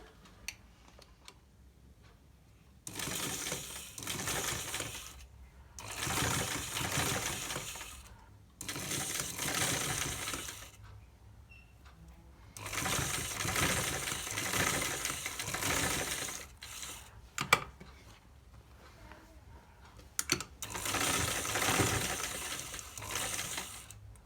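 Sewing machine stitching triangle pieces onto a designer sleeve, running in five separate bursts of rapid mechanical whirring with quiet pauses between, fairly faint overall.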